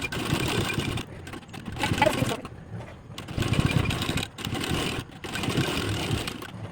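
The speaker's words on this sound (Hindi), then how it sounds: "किनारों पे सिलाई लगा लेते हैं।" A sewing machine stitches along the edges of a velvet princess-cut blouse, running in bursts with short pauses between them. The motor hums at a fairly steady level and no one speaks.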